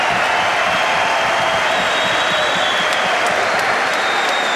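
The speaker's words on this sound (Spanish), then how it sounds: "un fuerte aplauso a estos cuatro gladiadores." A crowd applauds and cheers for four fighters after a three-against-one wrestling bout, a loud, dense, continuous roar of clapping filling the whole stretch without a break.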